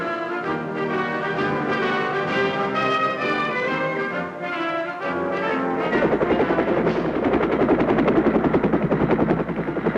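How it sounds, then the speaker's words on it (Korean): Steady loud helicopter rotor thump and engine drone, growing choppier and more pulsing partway through, with music-like tones layered over the start. "레이건 대통령 전용 헬기편으로 워싱턴 기념탑 광장에 도착해서"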